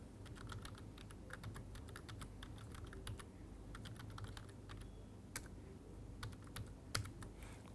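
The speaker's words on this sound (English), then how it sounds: "just typing it as it is" Quick, irregular keystrokes on a computer keyboard, with bursts of soft clicks and a few sharper taps over a faint room hum, and nobody speaking.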